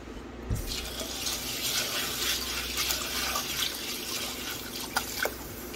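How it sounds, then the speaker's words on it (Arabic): Lentils being washed under a running kitchen tap, with a steady rush of water splashing into a sink and a few drips near the end. "صراحه نغسل العدس."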